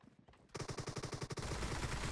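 P90 submachine gun in PUBG Mobile letting off a loud, rapid automatic burst of shots that starts after a short quiet lead-in and keeps going to the end.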